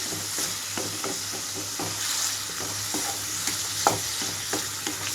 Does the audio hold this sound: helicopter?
no